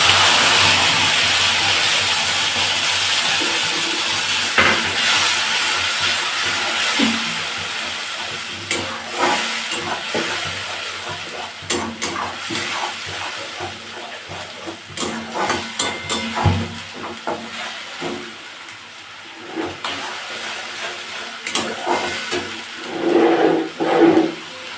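A paste of ginger, garlic, onion and chilli sizzles in a hot pan with a bright, steady hiss that gradually softens, broken by scraping and stirring knocks, close up.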